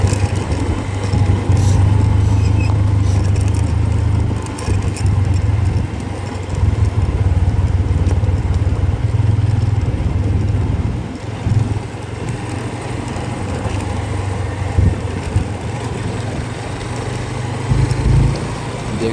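A motorbike rides along a mountain road, its steady engine drone loud and continuous throughout, with heavy wind buffeting the microphone and distorting the sound.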